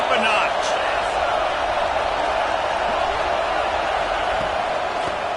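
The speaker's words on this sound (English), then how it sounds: "this crowd is turning it up a notch" Stadium crowd in the college football video game NCAA 26 roars steadily throughout, a dense, loud wall of cheering with no break.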